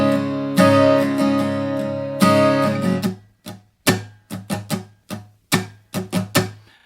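An acoustic guitar plays the subdued, southern-feeling verse strum pattern of a song, opening with two long ringing strums and then moving into quick, muted, choppy strokes in a steady rhythm, close and clear.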